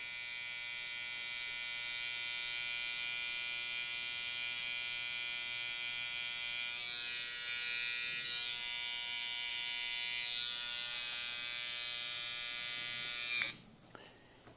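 An electric beard trimmer hums steadily at close range while cutting the corners of a beard into a sharp C shape, its tone shifting slightly as it is rotated, then cutting off abruptly near the end.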